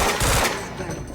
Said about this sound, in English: We're under fire!